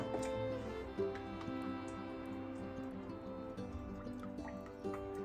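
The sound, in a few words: pouring oil into a kadai for frying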